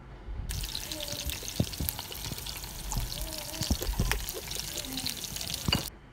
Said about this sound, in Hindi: हरी मिर्चों को इतना फ्राई करना है कि थोड़ी सी उसकी स्किन चेंज हो जाए